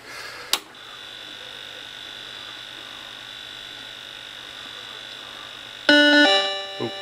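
A Vectrex HP 3000 console powering up with Hyper Chase loaded: a click, then steady electrical hum and whine, and near the end a loud burst of tonal game beeps.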